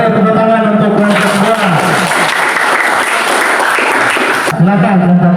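Classroom applause for a student discussion group, a burst of many hands clapping that swells and holds for about three seconds between stretches of a teacher speaking.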